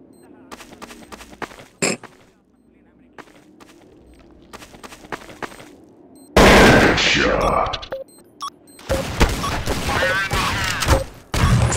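Gunfire in the Counter-Strike Source video game on the de_dust map, scattered single shots early on, then loud sustained bursts as a magazine is emptied, with a voice talking over parts of it.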